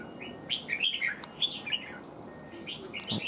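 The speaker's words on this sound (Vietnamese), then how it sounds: "Chim đã ra giọng rồi cơ." A red-whiskered bulbul sings in short bright chirping phrases, clear and fairly close, with brief pauses between bursts against a quiet background.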